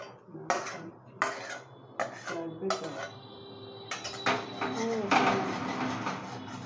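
Metal utensils clink and scrape against pots and a bowl as fried paneer is moved into a bowl for a paneer sandwich, a run of sharp clatters and taps in a home kitchen, with some quiet talk.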